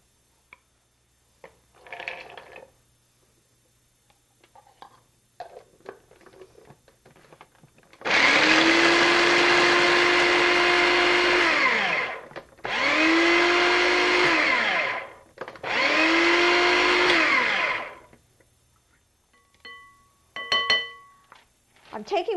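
Walnuts are ground in a blender for Greek honey-walnut cookies, three loud whirring bursts of a few seconds each with short gaps between, preceded and followed by quieter clinks and handling noises.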